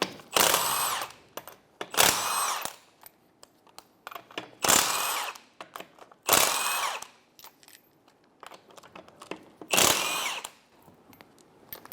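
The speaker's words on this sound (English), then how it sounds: "Remove the 5 19mm lug nuts." A power tool spins off the five 19mm lug nuts on a 2012-2016 Subaru Impreza rear wheel, five loud whirring bursts about two seconds apart, close by, with quieter clinks and handling noises between them.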